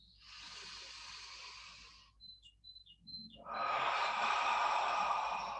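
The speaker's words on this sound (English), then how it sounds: "and then breathing back in." Breath drawn back in during a qigong session: an airy exhale fades, a few faint bird chirps sound briefly in the gap, then a strong close inhalation rushes in and holds to the end.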